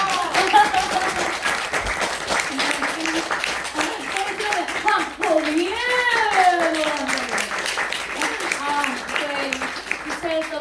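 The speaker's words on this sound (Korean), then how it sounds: "이승혜 피아니스트 박수 한 번 부탁드립니다." Audience applause for a pianist at a stage greeting after a musical performance, clapping running under a loud voice with sustained, melodic speech or cheering over it throughout.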